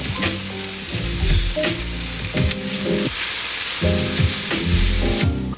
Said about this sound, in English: Adding the kale next, I'm just going to saute it.